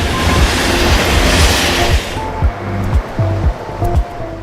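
A Vande Bharat Express train on the route to Srinagar, departing from Shri Mata Vaishno Devi station at Katra, gives a loud rushing rumble that drops away, followed by a rhythmic clatter of wheels over rail joints.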